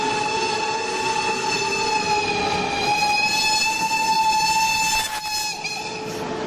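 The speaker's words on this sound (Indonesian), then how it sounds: "Ini kereta api uap" A steady toy steam-train sound with a sustained tonal whistle over a rumbling chug, continuous and fairly loud throughout, easing slightly near the end.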